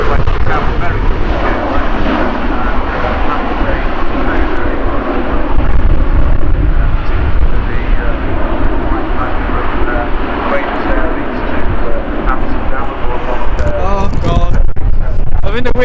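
Airplane landing at Manchester Airport in windy conditions, a loud, sustained roar of aircraft engines filling the whole stretch, with people talking over it close by.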